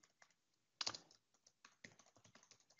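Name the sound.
typing on a computer keyboard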